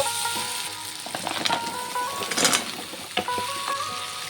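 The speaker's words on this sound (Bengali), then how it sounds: "এখন আমি কাঁকড়াটা দিয়ে দেব।" Crab goes into a hot pan where potatoes have been frying in spices. A steady close sizzle runs throughout, with a louder burst of hissing and clatter in the middle as the pieces land, and brief scraping afterward.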